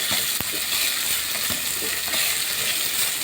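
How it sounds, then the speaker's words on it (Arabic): Rice with vermicelli hits a hot pan and sizzles steadily, loud and close. Faint scrapes and knocks of stirring sound under the sizzle, with no voices. "نزلنا بالرز اهو عليه اهو"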